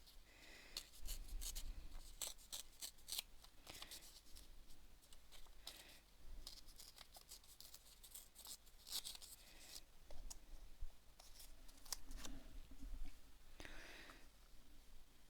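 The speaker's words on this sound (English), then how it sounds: "So I'm just going to tear this." Paper being torn by hand for a layered mixed media journaling card, soft rips and rustles at close range, intermittent and fairly quiet, with no talk.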